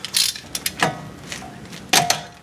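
Brake caliper bolts come off the front brakes of a 2012 Yukon Denali with a few short ratchet clicks and metallic clanks. The sounds are close and spaced unevenly over a quiet background.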